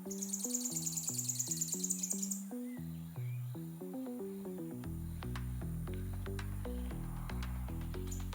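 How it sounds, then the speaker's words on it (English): A stripe-headed sparrow sings nearby in a volcanic area of Costa Rica, with repeated chirping phrases over a steady, sustained tonal drone that runs throughout. "And a stripe-headed sparrow was singing away nearby."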